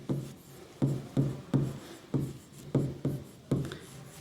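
Chalk or marker strokes on a classroom board, roughly eight short scratchy scrapes spaced fairly evenly, close and moderately loud, with no voices.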